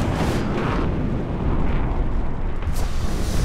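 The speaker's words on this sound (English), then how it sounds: "The ammo blew out, but we're still alive." An ammo rack exploding inside an M1 Abrams tank in War Thunder, a loud sustained roaring blast with crackling bursts and rumbling debris, heavy and close throughout.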